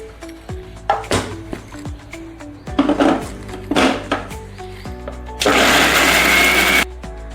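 A mixer grinder blends tomatoes into gravy: a few clanks and knocks of the jar come first, then a loud, harsh whirring burst of the motor for about a second and a half before it stops.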